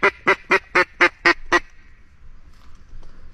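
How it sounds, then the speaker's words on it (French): A female mallard duck calls from upriver, a steady series of seven loud, evenly spaced quacks in a descending run, then quiet riverside ambience. "Il y a une canne qui me répond un peu plus haut."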